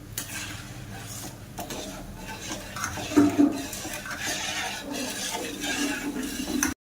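A spoon works through sugar syrup with cardamom in a pan, soft scraping and stirring strokes with a couple of brief metallic clinks, close by over faint kitchen background noise.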